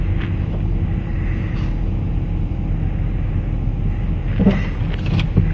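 Steady, loud low rumble of road and engine noise inside a moving car, continuous throughout, with a couple of faint clicks near the end.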